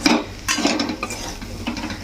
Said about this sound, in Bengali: ভালো করে একসঙ্গে মিশিয়ে নেব